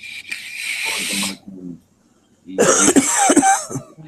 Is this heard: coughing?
yes